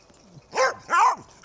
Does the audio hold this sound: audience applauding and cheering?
no